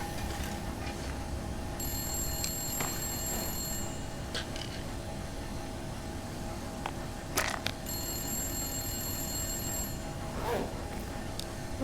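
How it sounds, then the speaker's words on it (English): A telephone rings in the video game The Long Dark, two repeated bell-like ring bursts over a steady ambient hum, with a few clanks and knocks in between. "Where's the damn phone?"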